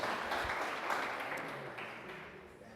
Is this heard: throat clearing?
no